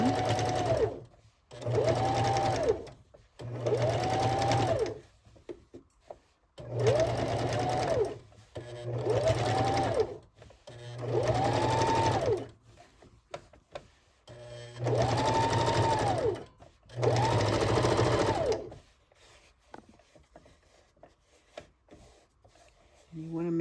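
Sewing machine stitching a seam in a garment made from a McCall's pattern, running in about eight steady bursts of whirring stitches separated by brief pauses, close and clear.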